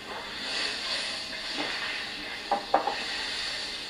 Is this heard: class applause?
no